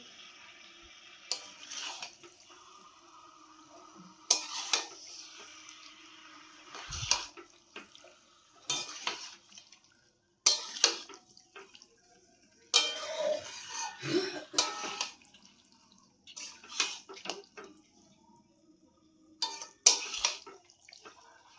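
Ground black sesame being stirred into chicken in a pan, giving intermittent scraping and clattering strokes at a steady on-off rhythm, fairly close, with no talking.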